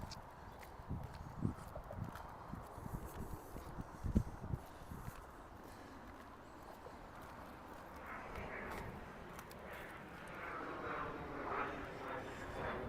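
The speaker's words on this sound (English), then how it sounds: "It's a small passenger plane of some sort." A small propeller passenger plane drones overhead at a lake beach in Regina, rising in the second half, with scattered clattering and knocks nearby early on.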